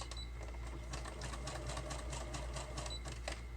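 A sewing machine stitches along the seam of a paper roll, a continuous close mechanical rattle over a steady low hum, with no pauses.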